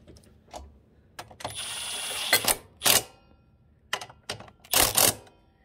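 A wrench tightens the sprocket bolts on a 2021 Honda Trail 125 in a series of close, sharp mechanical clicks and ratcheting bursts, with short pauses between them.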